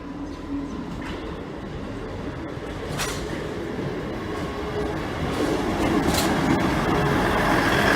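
An empty train runs on a rail line near Leicester and Nottingham, giving a steady rumble with faint rail clatter and occasional brief squeals, with no voices.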